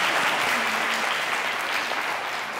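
A studio audience at a comedy show bursts into sustained, loud applause, a thick wash of clapping that holds steady throughout, with no talk over it.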